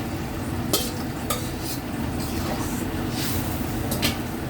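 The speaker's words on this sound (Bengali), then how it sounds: "এই যে মাছটা দিয়ে দিই" Koi fish goes into a pot of cooking potato, eggplant and cauliflower, giving a steady, close bubbling sizzle broken by a few light scrapes and clatters.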